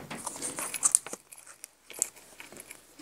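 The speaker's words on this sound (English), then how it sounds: "So I grabbed some die cut and I want to cut these." Scissors cutting through die-cut paper in a quiet indoor craft setting, a few close crisp snips and crinkles with pauses between them.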